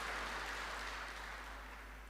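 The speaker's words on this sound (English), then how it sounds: "So let us thank them and applaud them as well." Audience at an official memorial service applauding, a steady broadband patter of many hands clapping, fairly faint and distant, fading slightly toward the end with no talk over it.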